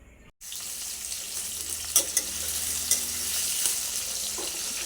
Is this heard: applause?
no